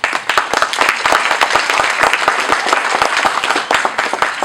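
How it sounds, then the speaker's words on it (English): An audience at a high school poetry evening claps in sustained, dense applause throughout, loud and continuous with no speech over it. "Give yourselves a round of applause."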